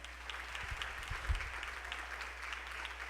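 A church congregation claps together in a steady, fairly faint round of applause during a Spanish-language sermon, a dense patter of hands with a few louder claps partway through.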